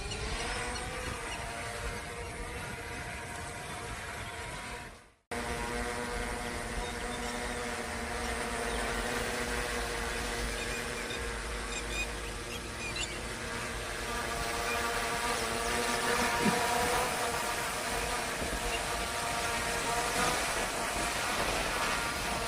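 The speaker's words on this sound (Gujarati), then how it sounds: "ડ્રોનને આપણે ફ્લાય કરશું આપણે હવે." A Dynalog DG600 GPS drone lifting off and flying gives a steady, loud whining hum of spinning rotors. The sound cuts out briefly near the start, then runs on unbroken and swells slightly later.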